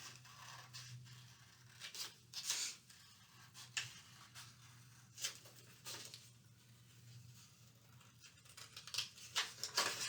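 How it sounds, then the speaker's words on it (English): Scissors snip out a paper hat for a Halloween junk journal, giving a scattered run of faint, crisp cuts and crinkles over a steady low hum, with no talking. "I want to cut this hat out."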